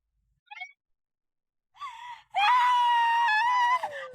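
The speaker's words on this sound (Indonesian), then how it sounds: "ngapain teriak-teriak?" A person screams loudly and shrilly for over a second, after a short gasp and a brief rising cry, close to the listener.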